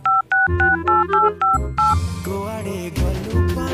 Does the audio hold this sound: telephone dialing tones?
yes